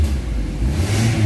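A Suzuki Ciaz engine with throttle delay and low power revs up, a close loud mid-pitched drone that climbs slightly in pitch over about a second.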